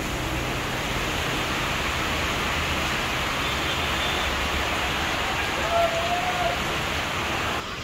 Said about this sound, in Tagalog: Hangin, ulan.